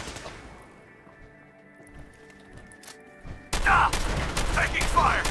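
Gunfire in the video game Fallout 4, a sudden burst of loud, close shots with sharp thumps breaking in after a quieter stretch of low game ambience.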